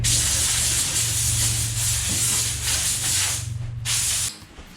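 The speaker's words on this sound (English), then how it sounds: "We're going to take some compressed air and just blow those areas off" Compressed air hisses loudly and steadily against the plastic surface of an ice fishing sled under repair, with a brief break before it tapers off at the end.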